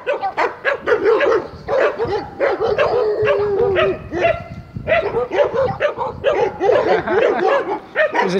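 Several dogs, including a small pug, bark loudly and repeatedly at close range, with yips and whimpers mixed into a near-continuous burst of barking outdoors beside a path.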